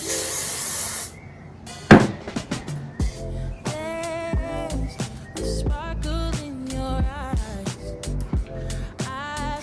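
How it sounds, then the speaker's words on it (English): A sharp hissing burst of hair spray lasting about a second, followed by a voice talking over background music. "Alright, give it a spray."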